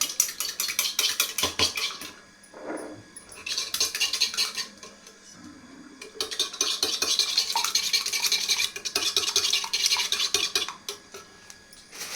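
Rapid metallic clicking of a whisk beating eggs with a pinch of salt in a bowl, coming in several bursts separated by short pauses.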